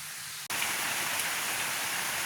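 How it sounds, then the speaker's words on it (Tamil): Steady rain starts abruptly and falls in a dense, even hiss over a village, continuous and fairly close, with no voices. "இப்போ பாருங்க பார்த்தா தெரியும் மழை பெய்ய தொடங்கிட்டுது"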